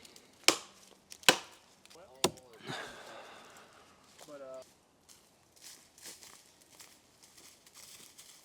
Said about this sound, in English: We're going to continue chopping some firewood.